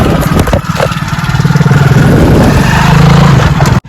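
A motorcycle engine runs steadily and loudly up close, its rapid throbbing pulse holding constant before cutting off abruptly at the end.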